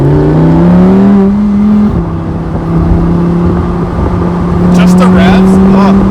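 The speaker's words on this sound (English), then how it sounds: "Just the revs?" A sports car engine, one of a Lamborghini and a Ferrari, revs close by, holding a steady loud drone that dips and climbs in pitch, with faint chatter in the background.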